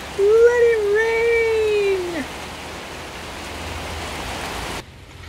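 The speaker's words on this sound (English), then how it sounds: "Look at that rain." Steady rain falls on a summer fruit garden with citrus and banana plants in Mildura, Australia, a dense even hiss, with a bird's whistled call near the start and the sound cutting off abruptly just before the end.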